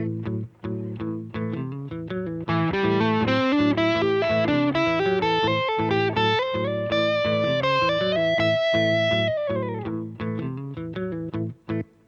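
An electric guitar with effects and some distortion improvises a sustained line in quarter-note triplets with loose, behind-the-beat drunken phrasing, bending notes over a steady backing, loud and continuous.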